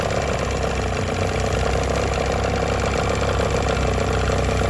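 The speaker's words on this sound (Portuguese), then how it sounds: "A lenta desse motor entre 950 e 1000" A Johnson 15 outboard boat motor idles steadily at about 950 to 1000 rpm, a continuous close, even mechanical drone with no pauses and no talking.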